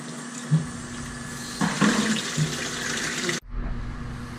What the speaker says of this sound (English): I'm just going to rinse out the sink here.